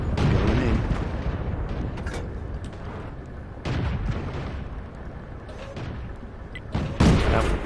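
An AMX 38 tank's gun firing in World of Tanks, several heavy booming shots spaced a few seconds apart over constant loud engine and battle rumble.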